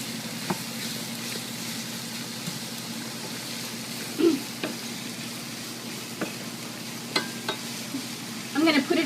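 Vegetables frying in a pan with cracked pepper and salt, a steady soft sizzle broken by occasional scraping stirs and clinks of the utensil, close and moderately quiet.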